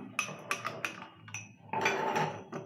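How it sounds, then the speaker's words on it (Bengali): A spoon stirs bael fruit pulp into milk for a shorbot drink, giving several sharp clinks against the container, then a brief scraping swirl and one last tap. "এবার একটুখানি নেড়ে নিচ্ছে।"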